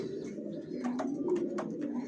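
A loft of Janssen racing pigeons of foreign bloodline keeps up a low, continuous cooing, several birds overlapping close by, with a handful of short brighter calls breaking through.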